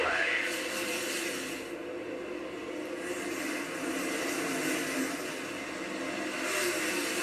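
NASCAR Cup Series race cars accelerate at Bristol, a dense, continuous engine roar from the field with a commentator talking over it throughout.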